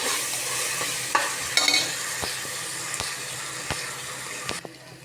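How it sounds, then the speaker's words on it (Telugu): Ginger garlic paste and onions fry in a hot pan with a steady broad sizzle, and a spoon scrapes through them in several sharp clacks and scrapes before the frying sound drops away near the end. "ఇప్పుడు అల్లం వెల్లుల్లి పేస్ట్ బాగా వేగిపోయింది అండి."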